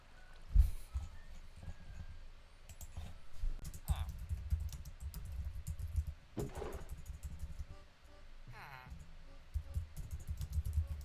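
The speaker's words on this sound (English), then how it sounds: "I'm typing a message on Discord, by the way, so that's why you hear me aggressively typing." Hard, rapid typing on a computer keyboard while writing a Discord message, an uneven run of clicky key strikes over a low background hum with a few louder bursts, close to the microphone.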